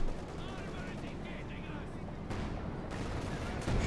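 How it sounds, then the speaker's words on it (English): A Stu Panther IV tank gun fires in Company of Heroes 2 amid a dense, loud battle din, with booms and gunfire cracks over constant rumble, partly under a commentator's talk. "Stu Panther 4 firing away"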